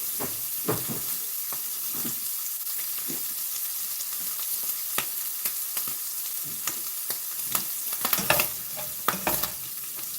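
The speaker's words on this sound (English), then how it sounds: "I'm going to put the ground beef in the same pan." Ground beef sizzles and hisses steadily in a frying pan, with a spoon or spatula scraping and stirring it in irregular clattering bursts, close and moderately loud.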